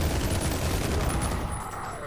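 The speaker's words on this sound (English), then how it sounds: "Rev up your chain gun." Chain gun in Ion Fury firing a steady, rapid stream of shots at close range, loud and unbroken for about two seconds before tailing off slightly.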